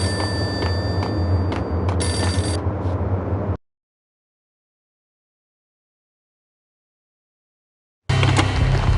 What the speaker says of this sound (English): The payphone started to ring.